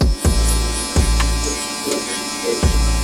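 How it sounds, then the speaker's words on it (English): Electric hair clipper buzzing steadily up close while cutting a mid taper, with a continuous hum and a few brief dips and bumps as the blade moves across the head. "You want to make sure the clipper is touching his head, just like this."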